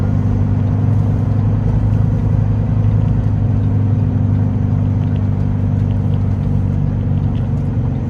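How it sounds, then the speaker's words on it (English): A heavy Paragon truck rolls past, heard as a loud, continuous low engine rumble and drone that holds steady throughout with no speech. "a freaking Paragon truck going through with her"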